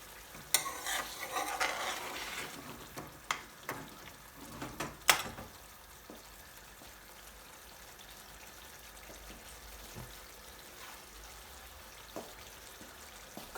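Garlic chicken madras curry sauce with tomatoes and coriander bubbling and splattering in a pan, with stirring scrapes and spits loudest early on, then settling into a quieter steady sizzle.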